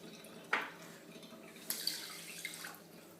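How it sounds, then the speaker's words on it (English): A brief splash followed by a short stream of tap water pouring into two glasses, with a few drips trailing off in a quiet room. "What I'm going to do is fill 2 full glasses of the water."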